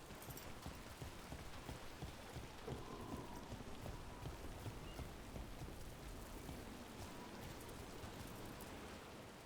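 Steady rain with low rumbling thunder in the fantasy game Dragon Age: The Veilguard, a dense continuous wash of rainfall with deep booms underneath, no talking.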